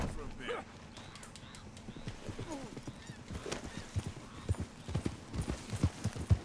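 Horse hooves clip-clop in steady walking rhythm in the Red Dead Redemption 2 video game, growing louder and sharper toward the end, with a brief whinny early on and background ambience.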